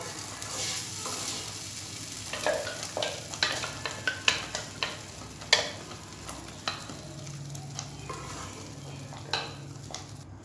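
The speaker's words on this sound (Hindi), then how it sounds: "तो पहले इसको अच्छे से मिक्स करें" Peanut chutney stirred in a kadhai over a lowered gas flame, with a soft background sizzle under irregular scraping and clinking strokes of the spoon against the pan, some louder knocks in the middle.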